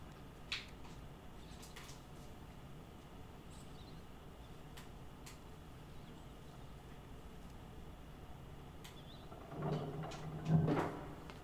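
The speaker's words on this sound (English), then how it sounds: "And now, bonus, door's open." A door slides open in the video game Inside: one short mechanical clunk and scrape near the end, rising out of a quiet, low hum of game ambience, with no voices.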